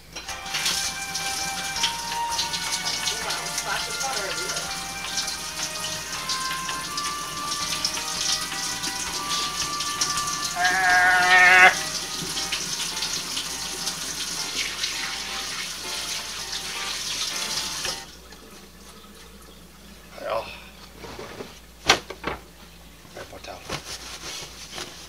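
A sink tap runs while hands are washed, a steady close splash of water lasting most of the stretch with voices talking over it. The flow then cuts off, leaving a few scattered knocks and clatters in a kitchen.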